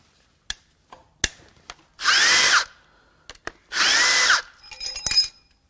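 A power tool unbolts a part on a 2019 GMC Sierra 5.3L L84 V8 in two loud whirring bursts of about a second each, set among scattered metallic clicks and taps from close by.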